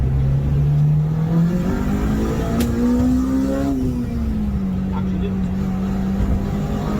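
Tuned and remapped Honda Civic EP3 accelerating hard in second gear, its engine note rising steadily then dipping as revs settle, loud from inside the car, with a brief spoken remark over it.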